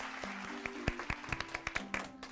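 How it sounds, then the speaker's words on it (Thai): An audience at a Thai Buddhist school quiz show breaks into applause, with distinct sharp claps standing out over a sustained background tone. "ขอเสียงปรบมือด้วยค่ะ"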